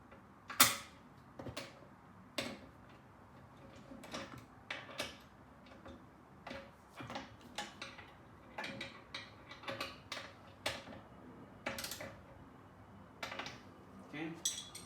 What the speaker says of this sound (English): Uses an 11/16